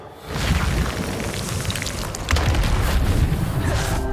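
A Bombarda explosion spell cast in the game Hogwarts Legacy: a loud, dense booming rumble with debris-like crackle, swelling into a second heavier surge midway and staying strong to the end.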